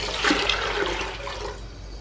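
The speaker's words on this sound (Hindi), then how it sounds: "इसके अंदर डाल देंगे 1 किलो पानी तकरीबन," Water pours steadily into a pressure cooker holding soaked lentils for chicken haleem, a close, continuous splashing rush for about two seconds that eases slightly toward the end.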